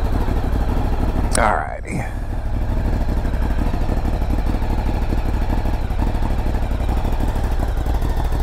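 A Ducati Scrambler Sport Pro 1100 motorcycle engine runs steadily up close, a continuous low rumble that holds throughout, with a brief spoken word near the start.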